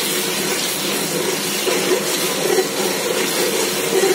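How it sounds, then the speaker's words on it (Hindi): Garlic, ginger and onion fry in hot oil for a biryani, giving a steady, loud, close sizzle and hiss that continues without a break, with no voices over it. "लहसुन अदरक को जो है प्याज के साथ में भूनने दूंगी"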